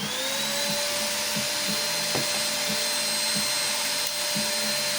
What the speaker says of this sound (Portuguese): Eu vou pôr o aspirador de pó aqui, evidentemente, para tirar o cavaco metálico